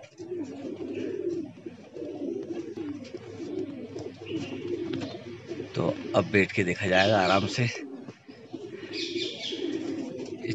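Ten released pigeons coo softly and flutter nearby while someone talks over them, a louder burst of bird sound rising briefly in the middle.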